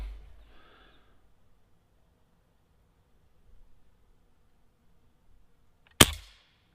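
A single sharp crack from a Crosman 760 or Daisy 880 air rifle fired at a rat, loud and abrupt after several seconds of near silence and faint rustling.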